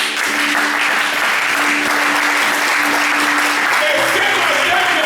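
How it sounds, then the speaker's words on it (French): A church congregation applauds during a Sunday service, loud sustained clapping filling the room with a broad crowd wash, voices faintly mixed in. "Nous pouvons acclamer le Seigneur."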